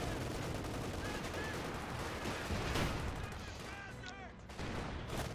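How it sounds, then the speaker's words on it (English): Company of Heroes 2 battle audio: bazookas and tank guns fire at a Panzer IV in a dense barrage of booming shots, blasts and rattling gunfire, with a commentator talking over the continuous combat noise. "The Panzer IV taking 8 damage from the bazookas and the tank guns."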